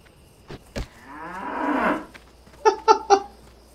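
A level 5 cow in a fantasy role-playing video game lets out a long, drawn-out moo, loud and close, followed by three short, sharp game sound effects in quick succession.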